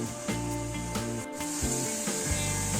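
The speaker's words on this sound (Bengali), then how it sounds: "একটু নুন দিয়ে দিলাম, আবারও একটু নেড়ে নিচ্ছি।" Salted shrimp curry stirred in a cooking pan, a steady scraping rub of the spoon against the pan over a low sizzle, repeating in short strokes, close and alone.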